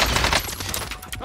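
Rapid bursts of automatic gunfire in the Call of Duty: Warzone video game, a dense crackling volley that is loud at first and then fades slightly over a short moment.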